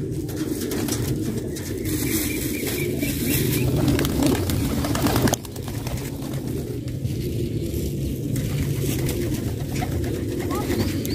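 Pigeons coo in soft, repeated low murmurs, with a steady ambient hum underneath and occasional faint chirps nearby.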